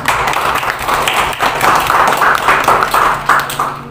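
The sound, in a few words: class applause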